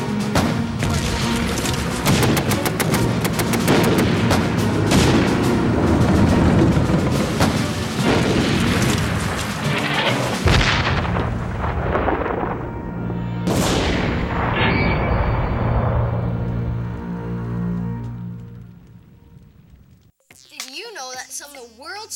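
Tank battle in the Sinai Desert: dense, rapid gunfire and heavy artillery booms pile up continuously and loudly, thinning to a few scattered blasts near the end before fading into near silence, with voices mixed in.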